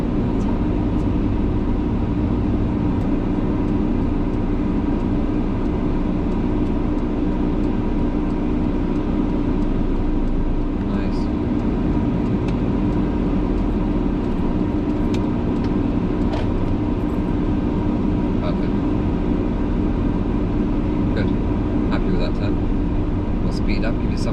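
Car driving on the road during a driving lesson, with a steady engine and road noise throughout and an instructor talking over it.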